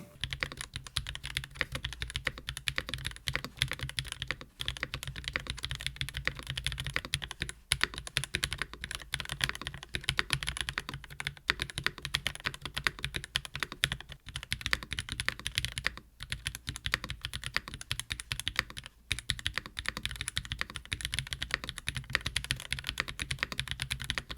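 Steady, fast typing on a Nuphy Gem80 mechanical keyboard, a dense stream of crisp clacky keystrokes at moderate volume with no voices.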